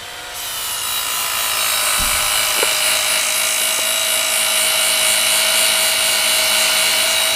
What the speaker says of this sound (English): It's actually a pretty fast little sander.